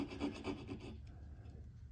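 A file rasping a small notch into the blade of a commemorative knife, a few quick rhythmic back-and-forth strokes close up, then stopping and leaving quieter scraping.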